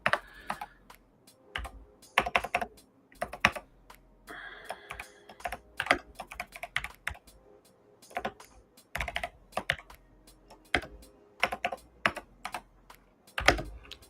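Notes are typed on a computer keyboard in irregular bursts of rapid clicky keystrokes, with short pauses between flurries and a couple of heavier key thumps.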